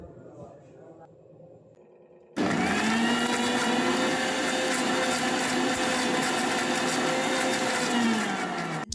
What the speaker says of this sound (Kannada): ಮಿಕ್ಸಿ ಜಾರ್ಗೆ ಹಾಕ್ಕೊಂಡು ನೀಟಾಗಿ ರುಬ್ಕೋಬೇಕಾಗುತ್ತೆ